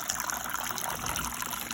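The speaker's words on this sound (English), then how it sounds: "everything appears to be flowing okay so that the water is going from each cup to the next without any hindrance" Water trickles and splashes from cup to cup down a homemade cascading bird fountain, a steady close gurgling flow with no voices.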